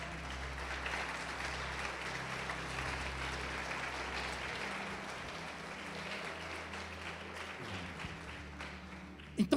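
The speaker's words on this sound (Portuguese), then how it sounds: "Vamos aplaudir o Senhor Jesus." A church congregation applauding: a sustained, moderately soft wash of many hands clapping in a large room, steady throughout with a low hum beneath and a couple of sharp knocks at the very end.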